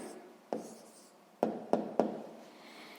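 A pen writes down the answer to a sixth-grade maths problem, a faint, close scratch on paper with a few sharp taps and short strokes over three seconds.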